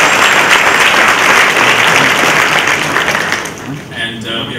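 An auditorium audience at an IIT Madras leadership lecture breaks into steady, loud applause for Anand Rajaraman, the clapping holding for several seconds before thinning out toward the end.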